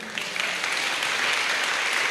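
An audience at a school prize-giving and awards ceremony claps steadily, a dense, even patter of many hands close by with no voices over it.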